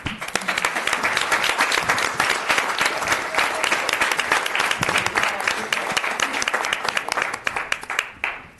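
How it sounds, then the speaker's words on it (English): Applause from an audience at a city council meeting, a dense and steady burst of clapping that is close and continuous for about eight seconds and thins slightly toward the end. "So again, one more round of applause."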